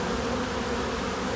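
Honeybees and drones on a hive frame give off a dense, steady, close buzz that fills the whole short moment without a break.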